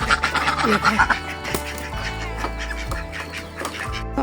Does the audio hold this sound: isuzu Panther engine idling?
no